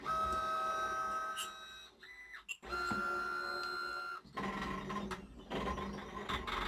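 A Silhouette Curio 2 cutting machine runs a foil contour job, its motors whirring in sustained tones that stop briefly, then resume with mechanical clicks and shifting pitches, close and clear with no speech.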